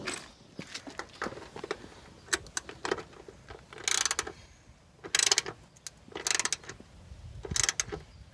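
Ratchet clicks in short bursts while tightening the bolts on Delrin door bushings of a Mazda Miata, with several separated rapid ratcheting runs and light mechanical handling noises between them, close up.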